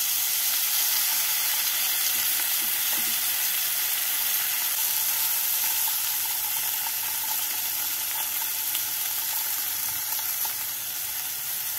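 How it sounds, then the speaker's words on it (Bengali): Katla fish pieces frying in oil over a medium-low flame, a dense, even sizzle that holds steady and close throughout with no voices. "এই সময় গ্যাসটাকে মিডিয়াম টু লো ফ্লেমে রেখে মাছগুলোকে এপিট ওপিট করে ভেজে নেব।"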